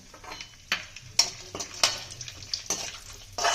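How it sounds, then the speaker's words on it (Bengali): Raisins and cashews fry in ghee in a wok, a quiet sizzle punctuated by several sharp spoon-stirring clinks and scrapes against the metal, close by with no voices. "কিশমিশ আর কাজুটা ভেজে নেবো।"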